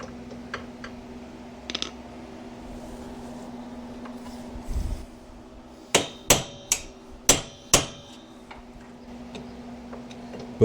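Hand hammer striking to free the front axle of a 2002 Polaris Sportsman 400: a few light taps and quiet shop noise, then a quick burst of five loud, ringing metal blows close by, with no speech.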